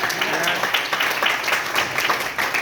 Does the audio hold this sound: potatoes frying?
no